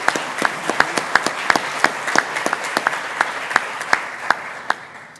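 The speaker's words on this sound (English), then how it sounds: "Let's give him a round of applause, Bob Megna." Audience applause at a panel event: moderate clapping from a small crowd with distinct individual claps, steady for several seconds before tapering off.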